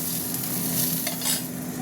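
Two boiled eggs fry in oil in a kitchen pan, giving a close, continuous sizzle with brief stirring scrapes, with no voices.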